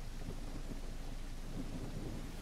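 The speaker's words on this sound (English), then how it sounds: "The rain is loud here." Heavy rain in the No Strings Attached video game, a dense continuous hiss and low rumbling roar that sounds storm-like, steady and loud throughout with no talking.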